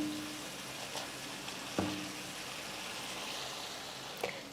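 A pan of chili masala simmers with a little added water, bubbling and sizzling steadily at close range, a dense hiss broken by a couple of brief clinks.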